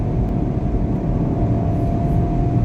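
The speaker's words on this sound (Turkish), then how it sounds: "şimdi spor moda aldım." Low, steady engine rumble and road noise from inside a Peugeot 408 GT accelerating in sport mode, a continuous loud drone with no talking.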